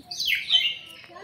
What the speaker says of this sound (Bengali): দেখো এখানে দেখো পাখিগুলো কেমন ডাকছে